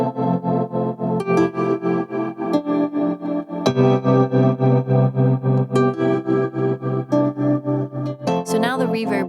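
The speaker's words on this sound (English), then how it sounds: "The tremolo cuts the harp signal in and out, and reverb is added after that." A harp played through a tremolo pedal and then a reverb pedal, its tones chopped into a rapid pulsing on-off pattern with a lingering wash of reverb, loud and close without any speech.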